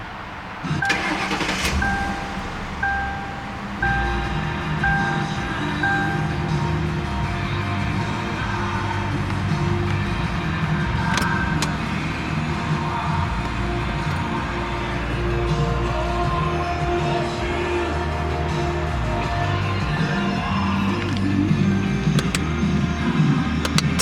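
A 2005 Ford Crown Victoria Police Interceptor cranks and catches, then settles into a steady, close, even idle that runs on alone for a long stretch.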